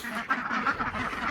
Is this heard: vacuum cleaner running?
no